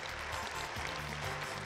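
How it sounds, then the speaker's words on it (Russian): Audience at a KVN junior league gala concert in Ufa applauding, a brief, faint, continuous wash of clapping from a hall crowd. "Ваши аплодисменты"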